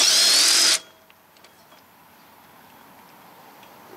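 A loud power tool, likely an impact driver, runs in one continuous burst for under a second, removing 14 mm bolts during rear wheel bearing and brake work on a 2005 Lexus ES330 / Toyota Camry. Quiet garage room tone follows.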